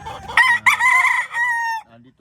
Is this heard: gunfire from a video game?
no